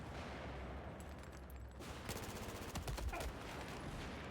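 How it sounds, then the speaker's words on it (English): Rapid automatic fire from an MP7 submachine gun in the Battlefield 4 multiplayer shooter, with dense bursts of shots and crackling impacts over constant battle noise, close and loud throughout. "outgunned by an MP7"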